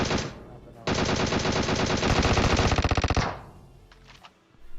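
Rapid automatic gunfire in PUBG, loud and close, with dense bursts of repeated shots running for a few seconds before fading to quieter background.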